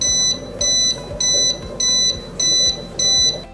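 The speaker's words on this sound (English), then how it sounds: "It's simply a light and an alarm." A Neptune Apex aquarium controller alarm beeps loudly, with six evenly spaced electronic pulses repeating in a steady rhythm.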